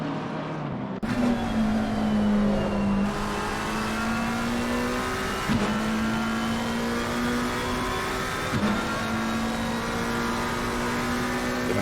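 A McLaren GT3 race car at Donington in a racing game, its engine holding a steady high drone that rises through gears with short dips at each shift, loud and continuous with no talk over it.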